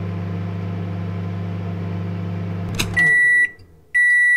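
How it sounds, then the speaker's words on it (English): A microwave oven runs with a steady low hum, then stops with a click and gives a series of loud electronic beeps, close by. "POV, you're in the microwave."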